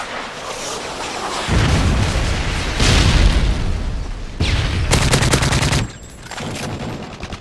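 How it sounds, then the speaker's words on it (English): A Predator missile strike in a Call of Duty-style multiplayer match on the Bakaara map erupts in loud, sustained booming explosions and heavy gunfire, with bursts of rapid fire and blasts stacking over several seconds. "Predator missile inbound."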